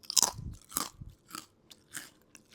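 Crisp, close bites and crunches of homemade potato chips, several sharp cracks in a row followed by softer chewing, with no talking.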